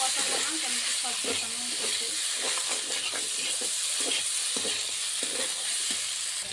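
Potato and pointed gourd fry in a pan while being stirred, a continuous close sizzle broken by scraping spoon strokes at irregular intervals, with faint speech underneath.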